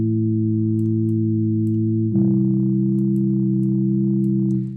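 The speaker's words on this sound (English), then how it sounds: "Now I want some of that distortion in there because we're going to filter it out with another filter after that." A synth plays sustained, buzzy distorted tones, with a steady held chord that shifts to a grittier, denser texture partway through and then fades at the end.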